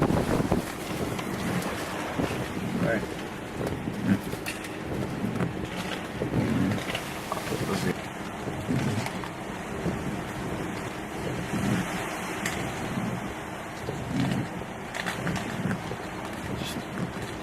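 Storm surf from Hurricane Sandy surging in along the North Carolina Outer Banks, flooding toward a road: a loud, continuous rushing wash of water and waves, heavily buffeted by wind noise on the microphone throughout.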